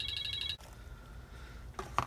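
A telephone rings in a garage during a carburetor rebuild on a 1974 Chevrolet C10, a short burst of electronic trilling pulses that cuts off, followed by quiet rustling and a couple of sharp clicks.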